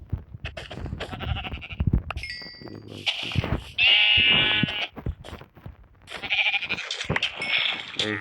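Minecraft sheep bleat repeatedly in short, nasal calls, some overlapping, over a faint background with occasional chiming effects; no talking.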